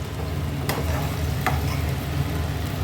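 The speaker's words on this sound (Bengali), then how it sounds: "এবার এই জলটা আমি কড়াইতে ঢেলে দিচ্ছি।" Water poured into a hot wok (kadai) for chilli paneer produces a steady, moderately loud sizzle, with a couple of sharp clinks from utensils on the pan.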